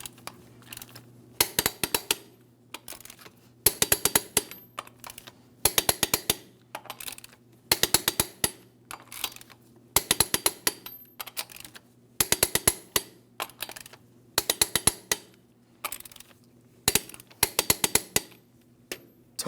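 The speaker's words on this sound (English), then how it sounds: "Let's go ahead and torque each of these lug nuts to 140 foot-pounds in a crisscross manner." Torque wrench ratcheting on the lug nuts of a 2007-2014 GMC Sierra 2500 HD wheel, crisp clicking bursts repeated in a steady rhythm, each nut tightened in turn and close up.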